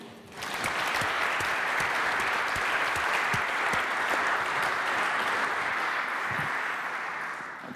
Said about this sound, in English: Clap your hands if you're with me.